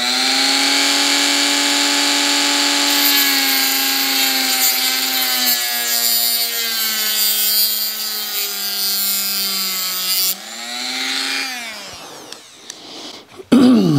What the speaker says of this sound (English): you're taking a Dremel tool with your fiber disc and just needs a little tiny flat spot